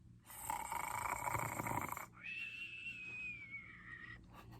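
A voice imitates a little dragon snoring during a children's storytime: one long raspy inhaled snore followed by a high whistling exhale, heard close and fairly quiet.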